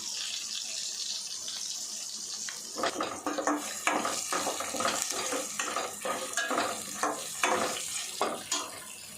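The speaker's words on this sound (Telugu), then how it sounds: "పోపు మంచిగా కలుపుకోవాలండి. అంతా సమానంగా మంచిగా వేగేటట్టు" Tempering spices with turmeric for tamarind pulihora fry and crackle in a pan, with scraping stir strokes close up after a quieter start; no voices.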